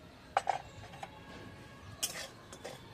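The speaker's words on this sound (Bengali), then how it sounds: "সুজিটা একটু কাঠ কলায় নেড়ে দিচ্ছি" Semolina stirred in a wok with a wooden spatula, heard as sparse, soft scraping and clinking taps near at hand in a quiet kitchen, with a few sharper knocks of wood against metal.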